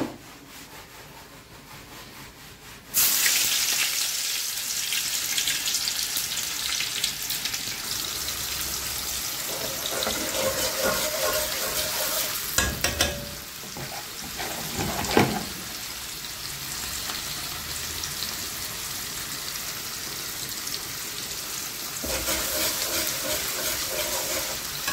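Oil hissing and sizzling in a hot wok, a steady loud crackling fry that starts abruptly after a quiet few seconds and continues with occasional scraping and clatter.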